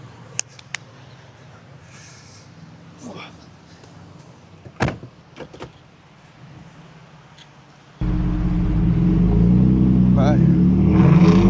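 A 4x4 truck in low gear accelerates out of soft sand on a beach, its engine roaring loud and close for the last few seconds after quieter clatter and brief sounds of people nearby.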